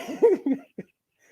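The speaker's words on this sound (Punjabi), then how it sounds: "ਫੇਰ ਖੰਘ ਆਈ।" A man coughs once during a spoken address: a short, throaty burst that comes just after a couple of voiced, laugh-like sounds. It is close and moderately loud, then followed by quiet.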